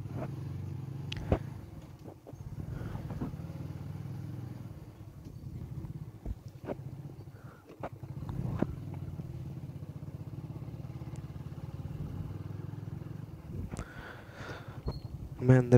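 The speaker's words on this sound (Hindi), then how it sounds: "मैं अपनी बाइक में एग्जॉस्ट लगाए हूं" A motorcycle fitted with an aftermarket exhaust rumbles along narrow lanes, its low engine note steady and close, with occasional clatter, wind noise and a few sharp pops.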